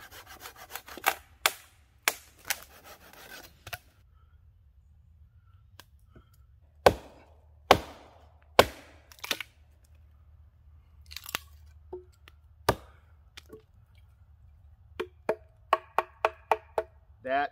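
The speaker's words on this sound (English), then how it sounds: "I'm going to go ahead and get a nice solid piece of firewood and I'm going to process it down into kindling" Firewood is split into kindling at a rainy woodland campsite: a series of sharp, close chopping strikes and cracks at irregular intervals over a quiet background, ending in a cluster of quick taps.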